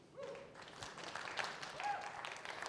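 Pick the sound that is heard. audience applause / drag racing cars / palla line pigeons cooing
audience applause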